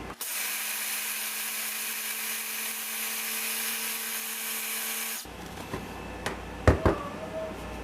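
A blender whirs at a steady high pitch for about five seconds while blending Mexican ice cream, then cuts off, followed by a few clunks and taps.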